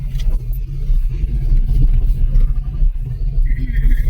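A car climbs a steep, narrow mountain road, its engine giving a loud, steady low rumble close up, with slight surges in effort and no talking over it.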